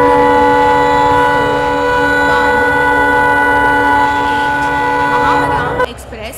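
A train in a simulator game pulls in with a long, loud sustained horn blast over a rolling rumble, the tone cutting off near the end.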